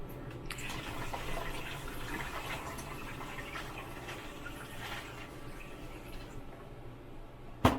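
Water pours steadily from a pitcher into the ice maker tray aboard a boat, a faint, continuous trickle and splash heard close by, ending with a small knock.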